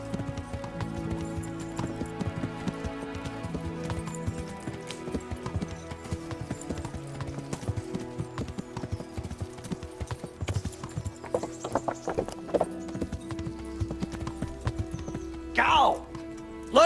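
Horse hooves clip-clop in a steady rhythm while riding in Kingdom Come: Deliverance, medieval setting, close and continuous under music and occasional speech, with a horse whinny near the end.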